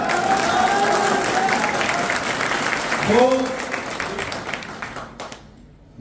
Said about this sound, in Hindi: एमडी साहब के नाम पर जोरदार ताली।